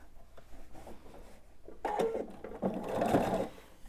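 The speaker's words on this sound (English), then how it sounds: "I'm just going to stitch till I get to that 1/4 inch, back stitch a little bit" A sewing machine stitches binding onto a quilt in short close bursts, including a brief back stitch, with a louder whirring run toward the end.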